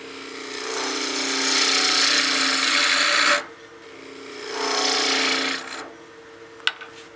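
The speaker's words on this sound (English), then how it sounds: "you get really big chips with a spindle roughing gouge" Spindle roughing gouge cutting a wine glass blank of wood on a lathe: two long, loud rasping cuts separated by a short pause, then a fainter scrape and a sharp tick near the end, with no talk.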